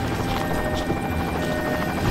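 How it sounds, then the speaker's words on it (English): Steady, dense rotor-like drone of a helicopter in the video game TimeShift fills the scene with constant low rumble, loud and continuous, no voices. "That's a helicopter."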